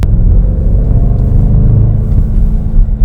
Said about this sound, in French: Ça fait un bruit incroyable, ça a un moteur de fou furieux